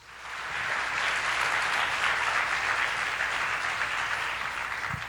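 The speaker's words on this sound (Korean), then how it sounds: "믿는 사람들만 박수 치세요" A church congregation claps during a Korean sermon, swelling quickly into a dense, even roar of applause that holds steadily at a strong level for several seconds.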